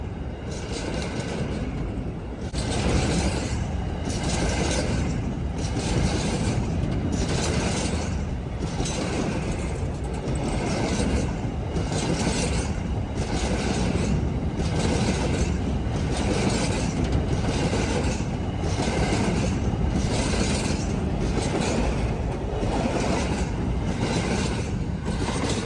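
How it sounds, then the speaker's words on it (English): A wheat train passing in Moora, Western Australia, with a long steady rumble and rhythmic repeating clatter of wagons rolling by continuously and fairly close. "It's obviously a wheat train."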